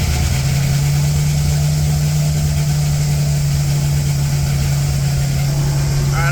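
A Chevrolet Corvette C6 Z06 engine runs at a loud, steady, close idle with a deep, even rumble and no revving.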